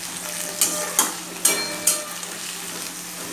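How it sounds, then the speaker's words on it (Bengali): Chopped onions fry in a pan with cardamom pods after the potatoes, giving a steady close sizzle punctuated by four crisp clacks of a spatula stirring against the metal, with no talking. "পেঁয়াজগুলোকে আমি লাল করে ভেজে নেব।"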